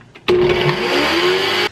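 A blender whirs loudly for about a second and a half, shredding zucchini, starting abruptly and cutting off, its motor pitch rising slightly as it shreds.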